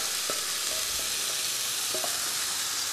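Satay chicken rice with cashew nuts hitting a hot pan, a loud, even frying hiss that fills the moment, with a few faint clinks of stirring beneath it.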